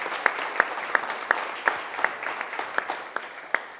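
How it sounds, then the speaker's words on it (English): An audience at a high school college signing applauds a visiting representative. The clapping is sparse and evenly spaced, sharp, steady and rhythmic, with no voices over it. "So let's give our visitor a big round of applause."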